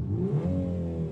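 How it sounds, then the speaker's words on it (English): A Volkswagen Golf engine revs briefly, the pitch sweeping upward and then holding at a steady, fairly loud drone, with no voices. "I'm going to rev up this Golf."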